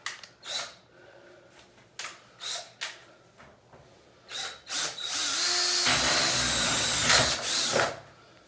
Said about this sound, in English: So I just get the pan and I drill right in the center.